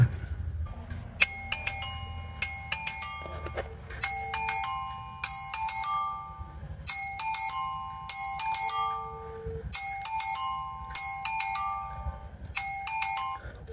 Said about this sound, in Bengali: ফোনটির রিংটোনে কিন্তু মোটামুটি বেশ জোরালো সাউন্ড পাবেন